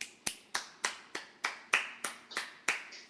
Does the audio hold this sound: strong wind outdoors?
no